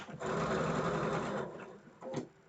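A sewing machine stitches a quilt block seam, a close whirring run of rapid needle strokes for about a second and a half, then a brief pause and a short second burst.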